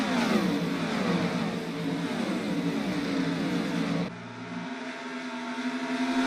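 NASCAR stock cars, led by Kyle Busch and Martin Truex, roar into turns one and two in a racing video game. A dense, loud drone of several engines rises and sweeps in pitch, then shifts abruptly to a steadier, slightly quieter hum.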